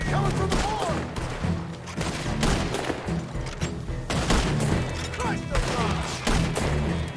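Heavy gunfire in a Red Dead Redemption 2 shootout at Beaver Hollow, dense volleys of rifle and pistol shots cracking continuously with thuds and crashes, loud and sustained over game music and shouting voices.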